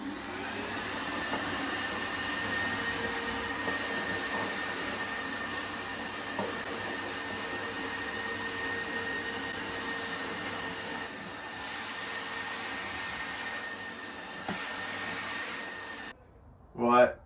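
An Evolution R15 workshop vacuum runs with a loud, continuous motor roar and airflow whine that holds steady for about sixteen seconds and then cuts off abruptly, followed by a brief thump.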